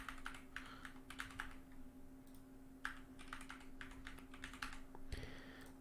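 Quiet keystrokes on a computer keyboard as a password is entered, a run of irregular clicks in short bursts with brief pauses, close and faint over a low steady hum.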